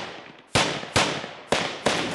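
Gunfire during a commando firing exercise: four sharp, loud shots spaced about half a second apart, each followed by a long, echoing decay outdoors.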